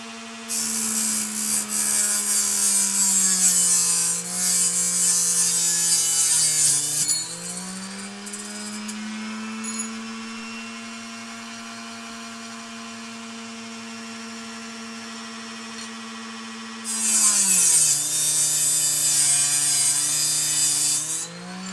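A powered saw whines steadily as it bites into an aluminum arrow shaft in two cutting bursts, the motor pitch dipping under load between them.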